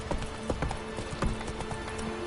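Horse gallops in the video game Witcher 3 with quick, rhythmic hoofbeats pounding close and steady over a busy game soundscape, no talk.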